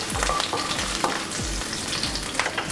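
Urad dal, mustard seeds and cumin fry in hot oil in a pan, a steady close crackling sizzle with soft low thumps at regular intervals, and no voices.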